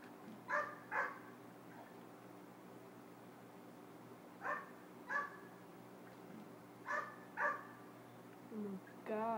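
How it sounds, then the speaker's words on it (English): A dog in the video game GTA 5 barking in Los Santos: three pairs of short barks spaced across a quiet ambient background, followed by a brief whimper at the end, moderately distant. "Oh my God, dog."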